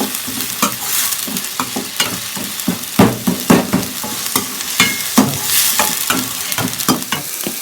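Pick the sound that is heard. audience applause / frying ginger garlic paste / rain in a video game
frying ginger garlic paste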